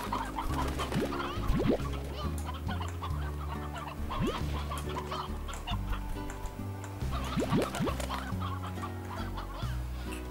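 Chickens clucking in the video game Slime Rancher, a steady run of fowl calls over looping background game music with no talking.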